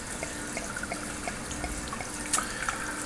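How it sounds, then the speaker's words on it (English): Beau's OG beer pours steadily into a glass, a continuous close liquid splash and trickle with small bubbly crackles, no voices. "So let's give her a pour."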